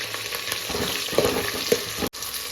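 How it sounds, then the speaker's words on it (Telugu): Onion and green chili fry in a pan with a continuous close sizzle and crackle, while a few soft stirring knocks and clinks sound over the steady hiss. "ఇప్పుడు ఇందులో ఉల్లిపాయ, పచ్చిమిర్చి వేద్దాం"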